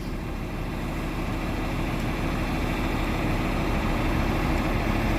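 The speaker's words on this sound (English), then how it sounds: "So I'll just leave the tractor at a low idle and shovel that away" A tractor engine held at low idle gives a steady, continuous low rumble with a broadband mechanical hum, running unchanged and fairly close throughout, with no voices over it.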